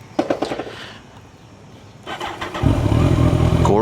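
A Kawasaki ZX-14R motorcycle cold-starts in summer heat, with a brief cranking burst that catches into a loud, steady idle rumble, close by.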